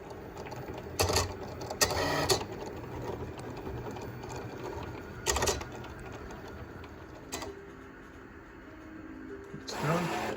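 Vinyl cutting machine slicing glitter heat transfer vinyl, a steady mechanical whir and chatter with several louder bursts as the carriage moves, fairly close and continuous.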